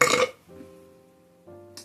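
A single loud burp erupts at the start, short and close, followed by a faint low tonal hum that fades and returns before a brief high burst at the end.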